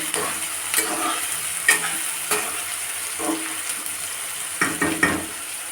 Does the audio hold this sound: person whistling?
no